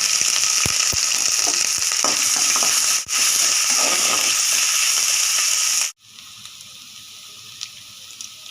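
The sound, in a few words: garlic ginger paste frying in a pan for mutton masala fried rice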